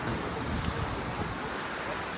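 Steady broadband surf washes continuously, loud and close, with wind noise buffeting the microphone.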